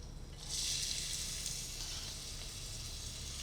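Half a white onion, finely chopped, hits hot oil with a sudden loud sizzle that swells after half a second and settles into a steady, close frying hiss, with no talking.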